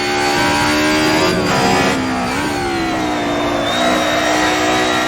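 A 1990s Mercedes race car engine revs loud and steady on a racetrack, its pitch rising and dipping through gear changes with a dense, continuous harmonic roar close by.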